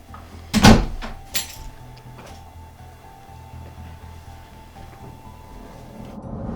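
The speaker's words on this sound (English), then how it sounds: "You can close the door, it's cold outside." A door closes with a single sharp thud near the start, followed by a quieter knock and then a still indoor room with a faint steady hum.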